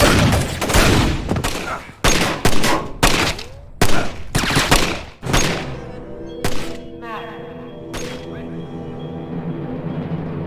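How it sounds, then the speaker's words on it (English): Anti-aircraft tracer guns fire over a night city in Splinter Cell: Chaos Theory, loud thumping bursts in quick irregular volleys, each trailing a rumbling echo, thinning out toward the end with a few isolated booms over a low hum. "there's something strangely mesmerizing about anti-aircraft tracer fire lighting up the night sky"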